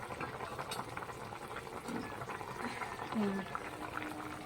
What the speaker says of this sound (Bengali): এবার ঝোলটা মনে হয় ফুটে গেছে